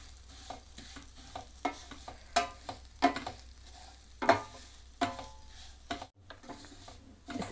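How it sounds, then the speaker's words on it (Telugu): Vermicelli frying in a pan for coconut milk payasam, turning golden, with soft stirring scrapes and a few sharper clinks of a spoon against the pan over a faint sizzle, close and fairly quiet with no talking. "ఇప్పుడు ఇదంతా బాగా ఫ్రై చేసుకోవాలి, కొంచెం గోల్డెన్ కలర్ వచ్చేదాకా."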